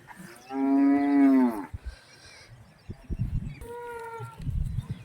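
A cow gives one long, loud moo up close, followed by a second shorter low call amid rustling and shuffling noises.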